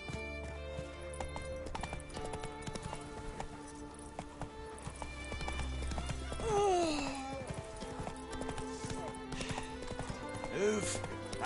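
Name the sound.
horse Roach galloping in The Witcher 3 video game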